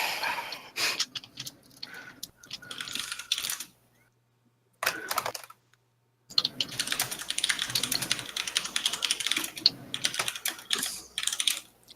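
Rapid typing on a computer keyboard during a Shadowrun tabletop RPG session, dense clattering key bursts broken by a couple of brief pauses, close and fairly loud with no talk over it.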